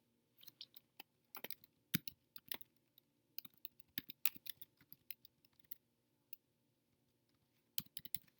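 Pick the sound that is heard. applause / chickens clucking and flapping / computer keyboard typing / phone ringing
computer keyboard typing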